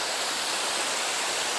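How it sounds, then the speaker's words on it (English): A small waterfall at Somersby Falls in Brisbane Waters National Park pours down into a hole, a constant close rushing splash of water with no other sounds. "you've got this little waterfall here, flowing down into that hole"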